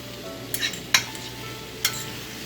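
Onions with salt and pepper saute in a soup pot for chicken noodle soup, a low steady sizzle broken by three sharp scraping clinks of a utensil, close and without voices.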